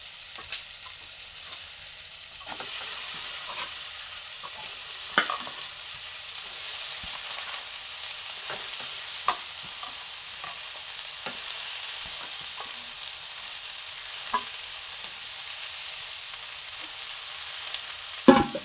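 Cabbage and potatoes stir-fried in a pan, a steady hiss of sizzling with scattered scrapes and light clicks from a stirring utensil, close and moderately loud, no talking.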